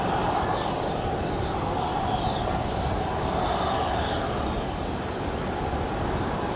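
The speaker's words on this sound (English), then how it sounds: "So Fiji making a full-length departure." Fiji jet making a full-length departure roll on runway 19 left at Brisbane Airport, a steady loud broadband engine roar that holds constant throughout with no voices.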